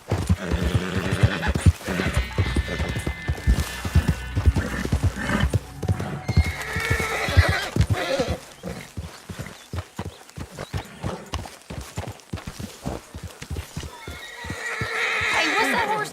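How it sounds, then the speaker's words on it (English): Horse in Red Dead Redemption 2 neighing and whinnying over rhythmic clip-clopping hooves, with repeated hoof beats throughout and another whinny near the end. "Hey, what's that horse doing in here?"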